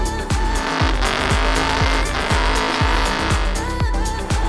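A 1967 Ford F250 truck brakes hard, its tires giving a run of close, regular squealing chirps over a low engine rumble.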